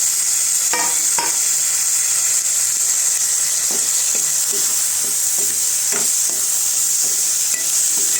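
Tomato and masala sautéing in oil in a pan for a brinjal potato curry give a loud, constant sizzle and hiss, broken by repeated scraping strokes of a spatula stirring the mixture, with no voices.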